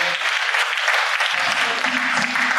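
A church congregation breaks into sustained applause at a Sunday service, dense clapping that holds steady at full loudness throughout with a faint murmur of voices beneath it.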